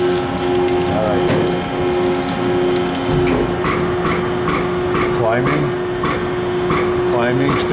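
Extrude Hone Vector 250 abrasive flow machine moving and clamping, with a steady hydraulic hum and tone and a run of rhythmic mechanical clicks, heard up close.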